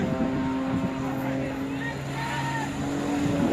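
A Jet Pitts Special aerobatic plane fitted with small added jet engines flies at the Eastbourne Airshow 2023, giving a continuous droning roar with a steady whine layered on top, heard from a moderate distance.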